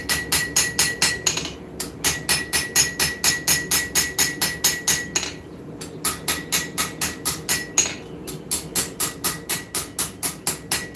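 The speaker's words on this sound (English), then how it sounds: "if I keep hammering on it, it'll start popping all that forge scale off." Hot steel seax knife blade being hammered at the forge, a steady rapid run of sharp, loud metallic strikes with brief pauses, forge scale popping off the surface.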